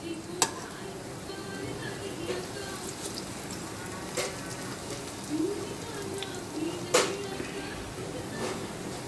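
Bora fritters and dry chillies frying in a pan, with a steady soft sizzle broken by occasional sharp crackles and spatters, fairly quiet and close.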